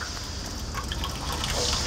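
Water trickles in through a slightly opened small ball valve on a 2010 Amtex Inferno Eruption pressure washer, a steady close wash of hissing, gurgling flow with faint drips, no talking.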